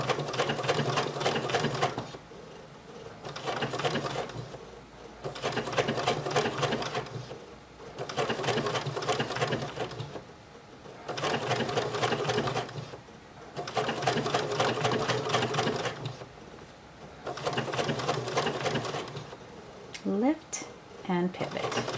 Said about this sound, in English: So I'm just taking slow stitching steps and just lifting my presser foot and